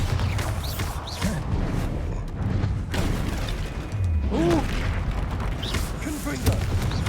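A Bombarda blasting spell goes off in Hogwarts Legacy, a booming magical explosion heard amid ongoing game effects and rumbling combat noise, with a voice speaking nearby.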